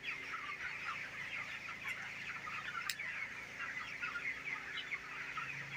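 Broiler chickens in a farm shed clucking steadily as a dense flock, a continuous near chorus of overlapping clucks with no talk.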